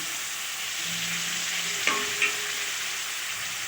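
Milk poured into kheer in a hot pan hisses steadily as it is stirred, with a brief low hum and a couple of soft clinks of a spoon partway through.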